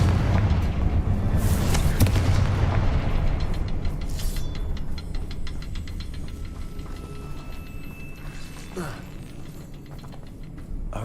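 Confringo fire spell blast in Hogwarts Legacy: a loud booming burst at the start that rumbles and crackles, then slowly fades into lingering debris and mechanical clatter.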